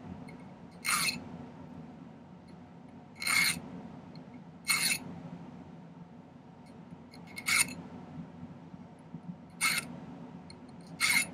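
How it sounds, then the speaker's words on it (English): A hand file tapering a silver pendant handle in a silversmithing workshop, heard as six short, bright rasping strokes spaced a second or two apart, close and distinct over a quiet low hum. "This is going to take me a while to file this down to a taper"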